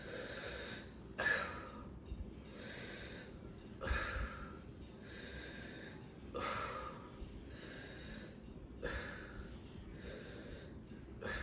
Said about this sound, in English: take a deep breath in, and then exhale.